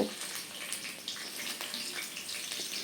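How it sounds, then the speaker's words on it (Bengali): Cut okra drops into hot oil in a home kitchen, setting off a steady, fairly soft hiss and crackle that continues without pause. "একই তেলের মধ্যে কেটে রাখা ভেন্ডিগুলো দিয়ে দেব"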